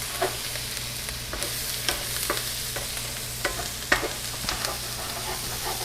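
Butter melting with whole sage leaves frying in a pan for brown butter sage bucatini, a steady soft sizzle broken by scattered sharp crackles and a few light stirring clinks, close and alone without talk.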